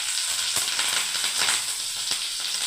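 Curry leaves and dried chilli sizzle in hot oil, a steady bright hiss with a few sharp crackles and pops popping out near the start, middle and end.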